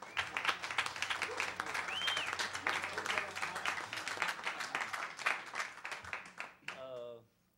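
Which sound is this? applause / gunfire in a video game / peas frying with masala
applause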